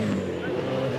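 V8 Supercars, a Holden and a Triple Eight entry, dueling down the front straight at Sandown in the 500-kilometre race, engines roaring in a dense, steady drone, with a voice faintly mixed in.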